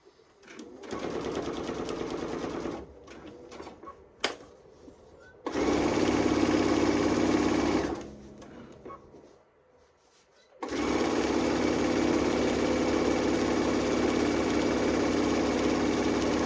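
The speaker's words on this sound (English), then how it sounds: "we'll take this over to the sewing machine and we'll sew it at a 1/4 inch" Sewing machine stitching a quilt facing at a quarter-inch seam, running in several loud, steady bursts with short pauses between them and no talking.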